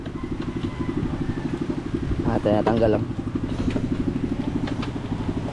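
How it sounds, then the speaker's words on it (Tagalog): A small fishing boat engine runs with a steady rhythmic chugging throughout, close and prominent, while someone speaks briefly over it. "Ewan ko lang yung aking makina kung aandar ba."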